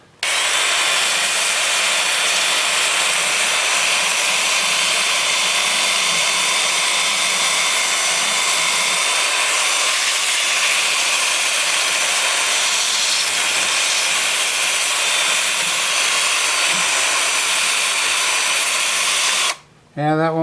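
A steady, loud whirring hiss of a 2-inch sanding disc grinding against a root ball spinning on a wood lathe, continuous for a long stretch before cutting off near the end.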